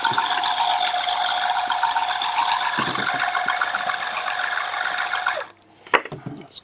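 A pump on a Sediment Buster Mk1 runs loudly with its hood off, a steady, rattling mechanical whir, then cuts off near the end, followed by a couple of faint clunks.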